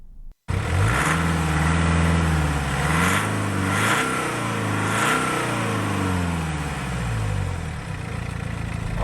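A car accelerates hard along a curved dam road, its engine surging through several rising gear pulls, each one ending in a brief shift dip, loud and close throughout.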